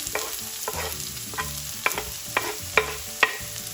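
Chopped garlic and medium red onion sautéing in a pan for chicken liver fry, a steady sizzle with about eight sharp spoon-scrapes and stirs spaced through it, close and fairly loud, no voices.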